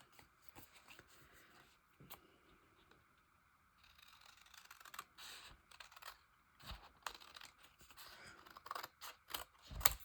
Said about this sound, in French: je vais prendre mes plus beaux ciseaux